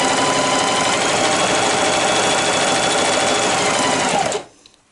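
Singer 4423 sewing machine stitching through denim, a fast steady needle drone that runs loud and close without pause, then cuts off abruptly near the end as the machine stops.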